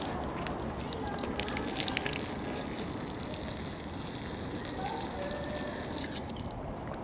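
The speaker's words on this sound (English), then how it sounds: "There's a drinking fountain here." Water running from a drinking fountain at a food vending area in Tokyo, a steady splashing stream that carries on for several seconds before cutting off, close by with no talk.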